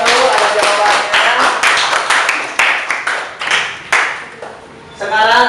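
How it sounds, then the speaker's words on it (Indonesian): A classroom of students claps for group 1 in a school lesson, with quick, uneven, fairly loud clapping from a small group that rises and fades in bursts. "kita berikan tepuk tangan dulu untuk kelompok 1"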